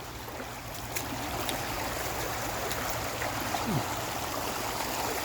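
Small creek water flowing steadily over gravel at a gold panning spot, a continuous close rushing trickle without breaks.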